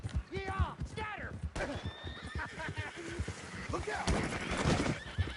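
A horse in Red Dead Redemption 2 whinnies loudly in several rising and falling neighs, with clip-clopping hooves and a splash of water, while someone shouts briefly over the commotion.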